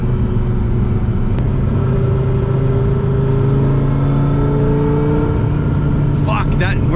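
A 1999 Hennessey Viper ACR cruises at speed, its engine a loud, steady low drone heard from inside the car, with voices over it and a brief higher rise near the end.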